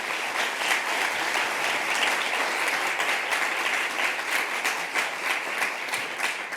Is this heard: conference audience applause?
yes